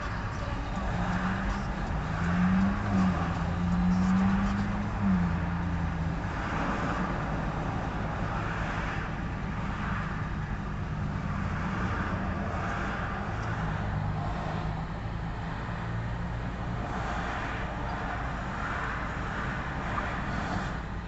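Steady city road traffic drones throughout, a continuous low rumble of cars passing with mild swells, while a voice speaks briefly over it near the start.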